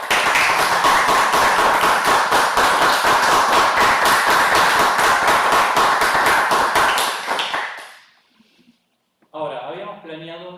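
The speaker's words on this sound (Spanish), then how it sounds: "¿Podemos aplaudirte, Lucas?" A crowd claps steadily for several seconds, then the applause fades out and a voice begins speaking.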